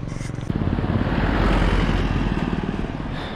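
Bikers' motorcycles pass on a mountain road in the Ladakh high desert. The engine drone swells loudly after a brief quieter start and stays strong and close, with a rumbling, pulsing tone.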